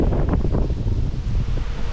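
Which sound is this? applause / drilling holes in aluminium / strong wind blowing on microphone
strong wind blowing on microphone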